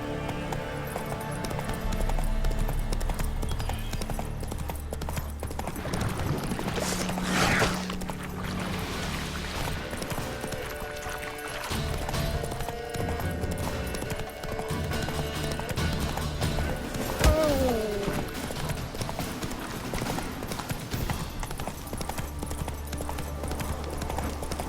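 Hooves clip-clop steadily as Roach, the horse in The Witcher 3, gallops beneath a continuous bed of game music and ambience, with a brief whinny-like sweep near the end.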